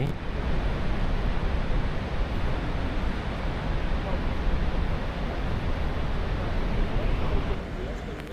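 Niagara Falls in icy winter thunders with a broad, continuous roar, a deep unbroken wash of falling water that holds steady and loud, with no voices over it.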